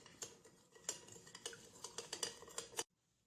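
A spoon stirs a salt, sugar and vinegar mixture in a bowl with a rapid run of light, close clinks and scrapes for about three seconds. The stirring stops abruptly, leaving near silence.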